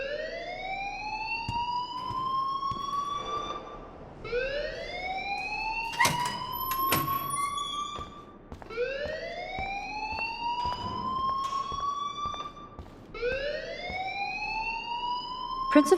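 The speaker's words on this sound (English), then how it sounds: "please turn off that alarm since that's your job." A fire alarm in the video game Life Is Strange wails in repeated rising siren sweeps, four long whoops with short breaks between them. Faint talk and clatter sit beneath the alarm.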